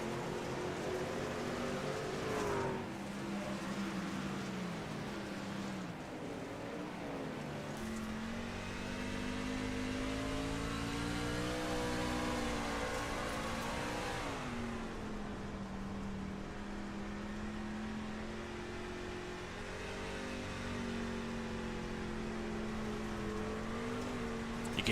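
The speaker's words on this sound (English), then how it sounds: "You can hear how gingerly Michael is using the throttle as Chisnell slides up in front of the 87" Dirt race car engine on throttle in a November Nationals race at Knoxville, a sustained revving drone that rises and falls in pitch, fairly distant and steady throughout.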